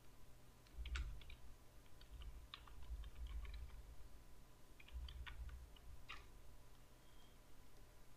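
Soft computer keyboard typing while text is entered into a Google Docs text box, scattered light clicks in a few short bursts over a faint steady hum, quiet and without speech.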